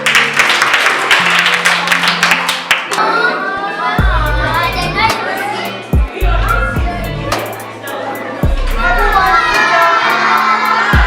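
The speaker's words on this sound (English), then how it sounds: "Clap for her." Children in a classroom clap and cheer together, loud and close, mixed with shouting and chatter, with the applause fading out near the end.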